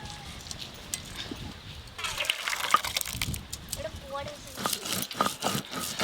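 Boiled lentils (dal) poured out in a rural village-style kitchen, a soft wet sloshing and splashing close by, running for several seconds under steady talking.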